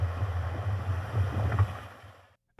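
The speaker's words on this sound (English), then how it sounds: "That was Oly XTrek splashing through some mud." A Subaru Crosstrek named Oly splashes through mud, a rumbling engine drone with a wet sloshing rush that builds, fades, then cuts off abruptly.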